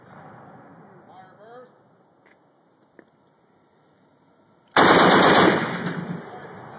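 .50 caliber machine gun on a Rosam mount fires a loud burst of rapid shots near the end, after quiet radio-style talk and faint background noise.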